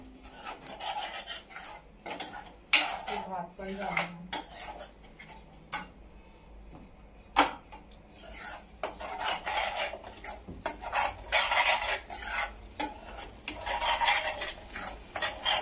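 Spoon stirring marinated surmai fish masala in a pan, with repeated scraping strokes and light clinks against the metal over a soft sizzle of oil, close and fairly quiet.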